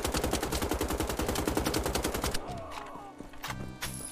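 Enemy assault rifles fire in the video game Wolfenstein: The Old Blood: a loud, rapid automatic burst for about two seconds, followed by scattered single shots and game effects.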